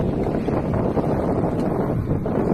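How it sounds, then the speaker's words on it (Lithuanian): Strong wind rushes across the microphone during a bike ride through a city, making a loud, continuous, blustery rumble with no voices. "Bet šiandien atrodo ir vėjas."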